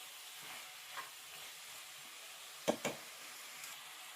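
Carrots and beans being stir-fried in a pan for rajma pulav: a faint background sizzle with a couple of sharp spatula knocks against the pan partway through, no talk.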